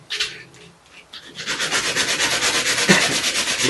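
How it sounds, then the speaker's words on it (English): A small wooden part for a handmade drone GoPro stand is sanded by hand, producing a steady, close rhythmic scraping of quick rubbing strokes after a brief pause. No talking is heard. "And this one I'll sand it a bit too."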